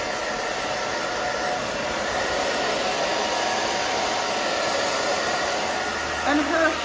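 A hair dryer blows steadily and loudly while drying the back of a woman's short pixie cut, a constant close whooshing roar with a faint bump near the end.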